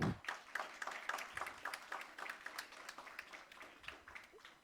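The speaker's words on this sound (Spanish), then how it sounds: "le damos un fuerte aplauso al maestro" Light applause from a small audience at an academic history conference, following the introduction of a coordinator from the Faculty of History's archive, with scattered claps at a moderate, fairly quiet level.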